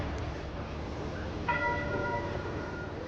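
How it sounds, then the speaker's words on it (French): Church bells ring out in Shanghai, a few clear tones starting midway and sustaining over a steady wash of ambient city or station noise. "Et les cloches qui sonnent notre départ."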